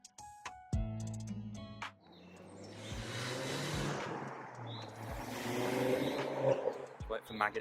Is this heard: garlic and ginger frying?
no